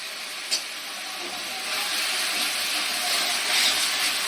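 Onions frying in hot oil for chicken chaap give a steady loud sizzling hiss that swells slightly and continues without pause, with a small clack at the start.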